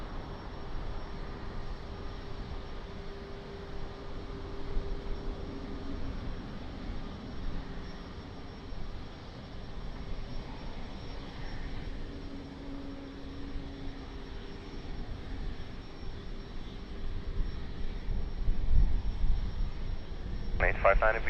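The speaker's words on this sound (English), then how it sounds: "Airbus 320 Neo lining up for departure" Airbus A320neo jet lining up on the runway for departure at Lisbon Airport, a steady distant engine roar and hum running throughout, swelling somewhat toward the end, with radio chatter over it.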